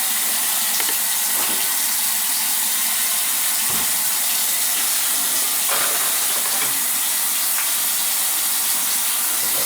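Water pours steadily from a tap as it warms, a constant loud hissing rush with a few faint clicks and knocks underneath, lasting the whole stretch without talk.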